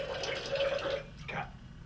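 Liquid poured from a bottle fitted with a pour spout into a metal bartending tin, a short gurgling stream that cuts off abruptly, with a brief trickle after.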